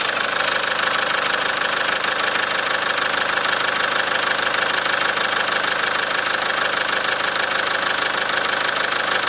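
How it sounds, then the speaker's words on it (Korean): A diesel car engine idles outdoors with the bonnet shut, a steady, even rattling hum that runs unbroken and fairly loud throughout, with no talking. "자, 이렇게 밖으로 나왔고 엔진 소리 한번 들어보도록 하겠습니다"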